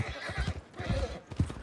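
A horse whinnies at the stables in the video game Red Dead Redemption, close and loud, with hooves clopping unevenly around the calls.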